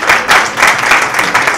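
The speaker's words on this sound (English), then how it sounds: "another round of applause" Audience applause at a transitional justice policy symposium, a dense steady patter of many hands clapping in a hall, fairly loud and sustained throughout with no voices over it.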